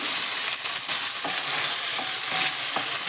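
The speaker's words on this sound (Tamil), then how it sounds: "எல்லாமே சேர்ந்து தான் வதங்க போகுது அதனால் இதை போட்டுக்கலாம்" Onion and tomato sizzle loudly in a hot pan, a constant frying hiss with occasional scrapes of a spoon stirring.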